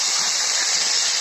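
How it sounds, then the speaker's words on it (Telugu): Spiny gourds (kasarakaya) tipped into hot oil, a loud, dense, continuous hiss of sizzling up close with no talk. "ముందుగా ఆయిల్ వేడెక్కింది. ముందు ఇవి కాసరకాయలు వేసేయాలి."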